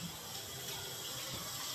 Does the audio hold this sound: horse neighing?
no